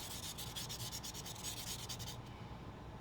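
The end of a carbon fiber tube is hand-sanded for a model aircraft fuselage, with rapid back-and-forth rasping strokes, close and steady, that stop shortly before the end.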